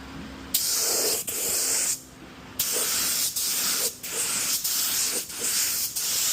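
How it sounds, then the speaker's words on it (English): A spray gun lays a first coat of clear on a car body panel in a soft-edge blend, loud bursts of hissing spray in repeated passes, each cut by short pauses. "First coat of clear going on."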